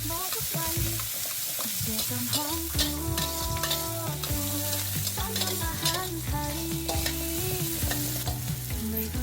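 Sliced shallots stir-fry in hot oil in a pan, the first step of a Thai minced pork and fermented fish dish; a steady, close sizzle runs throughout, with repeated scraping stirs and no talking.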